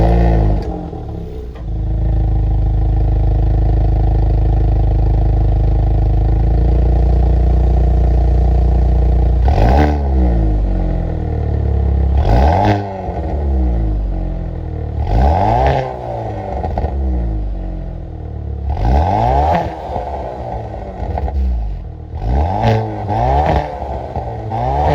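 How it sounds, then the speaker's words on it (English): A 2022 Hyundai Veloster N's 2-liter turbo four-cylinder engine idles steadily, then is revved hard several times, each rev climbing sharply and dropping back, with a crackling exhaust between bursts. "that was, of course, the sound of the 2-liter turbo 4-cylinder"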